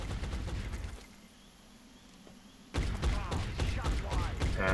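Suppressing gunfire from the XCOM video game bursts out loud after a quieter stretch, a dense rattling volley filling the last two seconds, with a lull of low ambient game sound before it.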